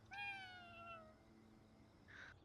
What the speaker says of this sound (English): What up, cat?